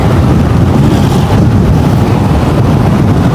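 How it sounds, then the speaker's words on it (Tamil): Loud, steady cyclone wind in Jaffna, Sri Lanka, roaring and buffeting against the microphone, a continuous rumbling wash with no pauses. "ஃபோனெல்லாம் தள்ளுது காத்து"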